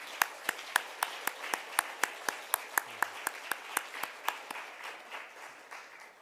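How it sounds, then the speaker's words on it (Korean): A church congregation claps in a Sunday service to welcome new members, a rhythmic run of sharp hand claps in a steady beat that loosens into scattered clapping toward the end. "한번 자리에서 일어나 주시면 함께 박수로 축하하겠습니다."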